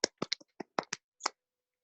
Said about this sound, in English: give a round of applause to Ming Yan